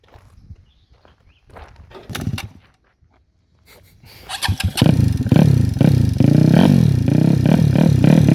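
A Honda Grom motorcycle with a big bore 4 valve kit starts up after a few clattering footsteps and handling noises, then idles and revs loudly and close by with a lumpy, pulsing exhaust note.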